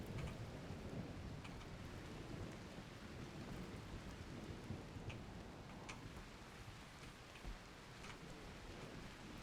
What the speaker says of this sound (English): there's the rain to put out the fire